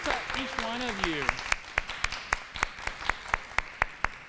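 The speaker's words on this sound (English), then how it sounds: "So, one last round of applause." An audience at a poetry recitation event claps in a steady rhythmic beat that starts under a voice speaking and continues after it stops, with evenly spaced sharp claps.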